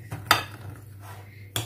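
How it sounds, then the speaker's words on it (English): Chocolate being mixed into mini doughnuts in a bowl, a spoon clinking and scraping against the dish in a few sharp knocks separated by quieter stirring, close and brief. "So now I'm gonna mix all the chocolate in with."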